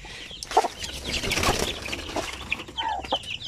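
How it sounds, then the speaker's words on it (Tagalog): Basilan and Zampen native chicken hens with their chicks cluck and peep close by, with short bursts of wing flapping mixed into a busy, steady farmyard bustle. "Yan mga inahin. Mga sisiw."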